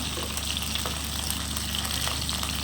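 Ivy gourd sautés in hot oil with a steady, even sizzle that stays close and constant throughout, with no voices.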